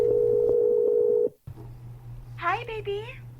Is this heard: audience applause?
no